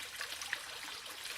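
Water trickling up out of the ground, a soft continuous babbling and dribbling, faint and close, with no voices.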